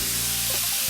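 Steak coated in miso sears in a hot pan, cooked toward medium, giving a steady broad sizzle with low crackling throughout, close and fairly loud.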